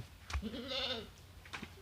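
Goats on a Thai goat farm let out a single wavering bleat mid-clip, fairly close and clear, with a short quieter call near the end; no talking.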